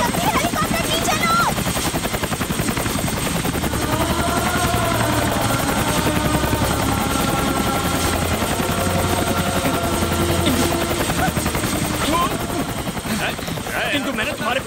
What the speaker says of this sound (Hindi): जल्दी हेलीकॉप्टर नीचे लो।